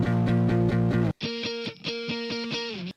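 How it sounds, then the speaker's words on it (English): Scratchy, heavily distorted early-2000s-style electric guitars in a rock cover, chugging rhythmic chords that cut out briefly and then return with a thinner, brighter crunch. "Super scratchy early 2000s guitars."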